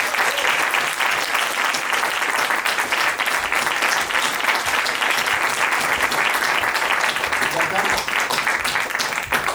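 Loud, continuous audience applause at a film festival press conference for Call Me By Your Name, welcoming actor Armie Hammer; dense clapping holds steady throughout with no letup.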